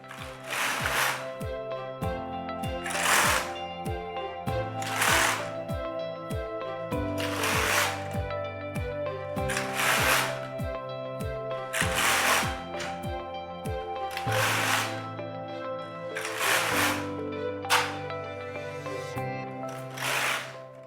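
A Singer Solo hand knitting machine knits rows of ribbing, its carriage sweeping back and forth in a steady rhythm of clacking, whirring passes with regular pauses between strokes, close and clear with no talking.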